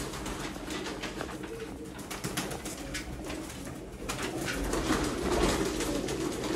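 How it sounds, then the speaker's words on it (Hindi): Rampuri pigeons in a flock of about 120 birds, soft cooing in a steady stream with faint wing flutter, moderately distant over low ambient noise. "देखो रामपुरी कबूतर दोस्तों"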